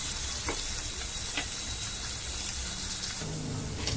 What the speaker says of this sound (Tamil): எண்ணெய், சோம்பு, வெங்காயம் நல்லா வதங்கணும்.